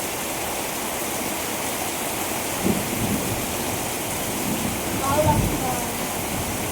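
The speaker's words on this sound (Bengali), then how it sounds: "এই দেখো জলটা ফেলছে, এই দেখো।" Water being poured out in a handloom workshop, a steady rushing wash running throughout with slight swells, loud and close, with no speech.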